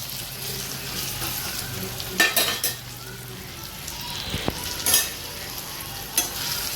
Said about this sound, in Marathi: आता टाकूया लसूण आणि घाटा मारून घेऊया